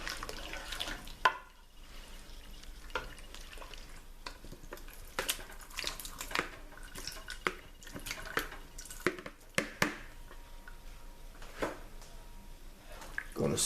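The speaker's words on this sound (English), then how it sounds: "Stir this all in" Curry peanut butter chicken being stirred in a pot, wet squishing and dripping with irregular clinks of the spoon, close and quiet, no talk.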